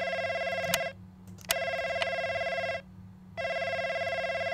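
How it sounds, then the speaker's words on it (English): An in-game telephone rings in the horror video game NightCry, bright electronic ring bursts repeating in a regular on-off pattern, fairly close and clear over a low hum, with no talking. "Oh wait, that's not my phone, that's the phone in here, isn't it? It's a dumb idea for me to answer this."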